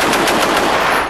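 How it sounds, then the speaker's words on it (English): Heavy machine gun fire from the Queens Own Yeomanry during an Army Cadet Force exercise, a loud, rapid continuous burst of shots close by. "with fire support from the heavy machine guns of the Queens Own Yeomanry"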